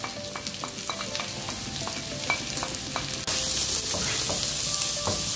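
Onions frying alone in melted butter, no garlic, crackle in a bright continuous sizzle close by, with spatula stirs tapping through; the frying grows suddenly louder partway through, and no one speaks.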